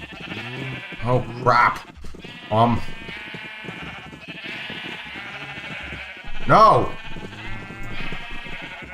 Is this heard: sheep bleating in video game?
yes